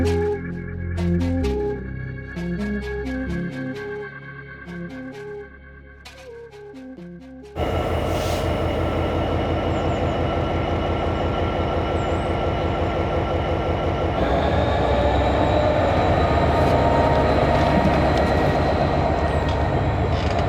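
A train rolls through a railway yard as a continuous loud rumble with rhythmic mechanical clatter, growing a bit stronger partway through, after an opening stretch of music.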